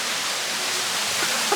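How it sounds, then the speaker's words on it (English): Large waterfall at Blue Heaven Waterfalls in Jamaica, a steady broadband roar of falling water that fills the whole clip at a constant level, close and loud, with no voices. "There is a few waterfalls, and it ends in this big one here."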